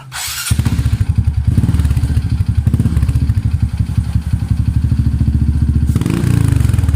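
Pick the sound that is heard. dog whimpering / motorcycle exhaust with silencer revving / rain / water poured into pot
motorcycle exhaust with silencer revving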